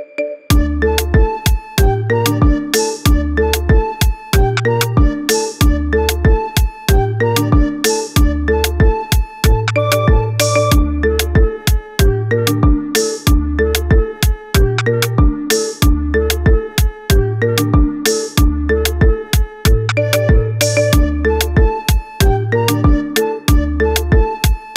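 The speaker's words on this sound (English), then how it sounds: "Get this cool ringtone for your phone now." Marimba remix ringtone of a song, bright mallet notes in a steady repeating rhythmic pattern with a bass line, loud and close, playing alone throughout.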